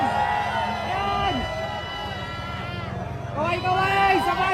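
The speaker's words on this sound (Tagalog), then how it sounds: "Kaway mga kapatid! Sabay hiyawan!" A large crowd at a political rally shouts and cheers in a dense roar that dips in the middle and surges again, with voices rising over the din.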